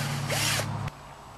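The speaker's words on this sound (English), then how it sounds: "Then I'm going to start with a really small drill." A power drill with a small bit whirs in a brief high-pitched burst into a broken, seized motorcycle exhaust stud, spinning up and cutting out after about half a second, close by against a steady motor hum.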